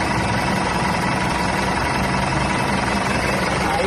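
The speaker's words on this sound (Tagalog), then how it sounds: "papakita ko lang yung makina na naandar na siya" A 2010 Mitsubishi Montero Sport engine idles steadily and loudly after valve cover gasket replacement and EGR cleaning, a dense continuous rumble with fine mechanical clatter and no talk over it.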